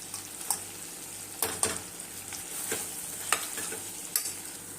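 Pieces of hariyali chicken ghee roast fry in a pan with a low, steady sizzle, punctuated by several sharp spatula scrapes and taps at irregular intervals, with no voices.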